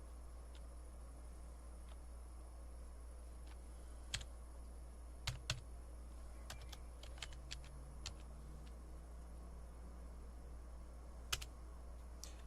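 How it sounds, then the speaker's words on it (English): Computer keyboard keys clicked while renaming something in Farming Simulator 25: scattered sharp taps in short bursts over a steady low hum, fairly faint, with no talking. "I got to use the keyboard."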